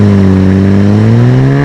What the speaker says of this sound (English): When that engine starts, it's otherworldly